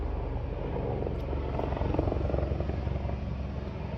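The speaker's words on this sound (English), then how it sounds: "There goes a helicopter." A helicopter's deep, pulsing rotor thump and engine roar fill the clip, loud and steady as it passes close by.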